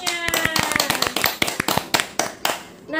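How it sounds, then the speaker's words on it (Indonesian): A classroom of students claps for a classmate, loud, close and uneven, each clap sharp and distinct in a quick ragged rhythm that thins out toward the end before a voice begins. "Beri tepuk tangan untuk Jukyung semuanya."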